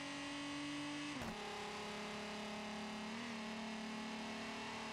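A loud, steady twin-turbo race car engine with no exhaust drones throughout in a video game, with a sharp pitch dip and brief burst partway through, then settles into a constant roar.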